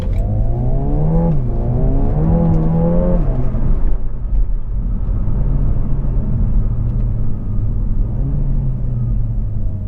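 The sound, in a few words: Renault Megane RS engine accelerating and downshifting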